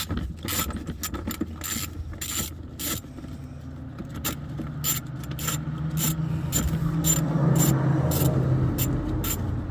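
A ratchet loosens long bolts during an oil change on a 2020 Kia Telluride, rapid close clicking strokes in uneven bursts with a low engine-area hum growing louder.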